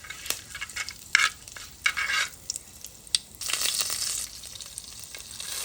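Curry leaves and asafoetida hit hot tempering oil with sharp crackling bursts, then a steady loud hissing sizzle, broken by a spoon scraping and stirring in the pan, close by with no talk.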